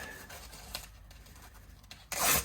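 Rolled-up sandpaper rubs the stainless steel fret edges on a Martin Road Series acoustic guitar: faint, soft scuffing at first, then a short, louder rasping stroke near the end.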